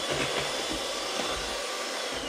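An electric whisk beats cake batter for small apple fondant cakes, giving a steady, close motor whir that continues unbroken on its own.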